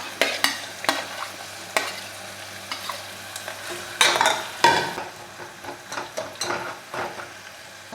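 Onion, two green chillies, carrot and beans stir-frying in a pan, with repeated scraping and clattering strokes of a spatula over a continuous sizzle, close by.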